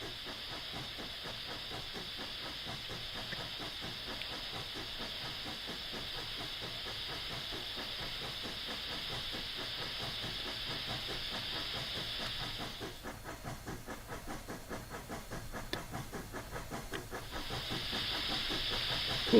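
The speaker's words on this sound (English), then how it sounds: "You can hear the gold mine running in the background there." Gold mine machinery runs steadily in Train Simulator on the Colorado & Southern Alpine Tunnel route, a continuous hiss with a rhythmic mechanical chatter underneath, one high hissing layer cutting out briefly before returning.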